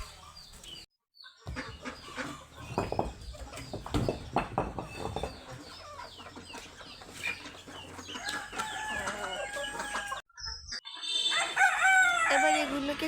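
Backyard chickens cluck and call in scattered bursts, close and then farther off, with a crow-like call and a few short silent gaps, set against faint background noise.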